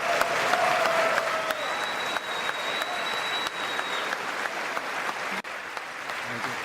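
Members of the US Congress applaud during an address by India's Prime Minister Modi, a dense, sustained round of clapping from a large crowd in a chamber, loud and continuous.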